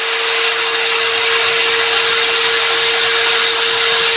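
An electric drill running at speed setting 1 whirs continuously at a steady pitch, a loud even motor whine with a clear tone and no talking.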